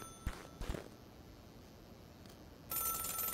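A telephone rings in the video game Celeste, a bright electronic ring that starts near the end after a couple of soft footstep-like thuds over quiet ambient background.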